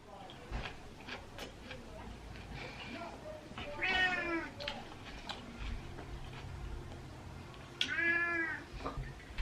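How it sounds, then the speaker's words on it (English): A pet cat meows on a bed indoors, two clear drawn-out meows a few seconds apart amid quiet household background, with faint voices talking nearby. "you can see Rossi in the vlog meowing on the bed"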